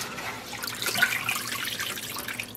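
Water pours and splashes while dyed blue merino and silk roving is rinsed, a steady close hiss of running water with soft irregular sloshing throughout.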